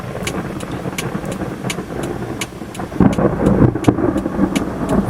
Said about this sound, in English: It's a storm.